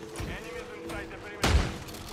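Gunfire from the video game Call of Duty: a sharp, loud burst of shots lands near the end, after quieter game sounds and faint background noise.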